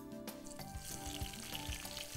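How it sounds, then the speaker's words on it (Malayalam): Sliced onion drops into hot oil with popped mustard seeds in a pan, giving a faint, steady sizzle with soft stirring scrapes and small pops over about two seconds. "കടുക് പൊട്ടി, ഇനി നമുക്ക് ഇതിലോട്ട് സവോള ഇടാം."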